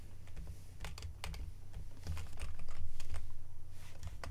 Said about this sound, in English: I think I just heard somebody else's keyboard click.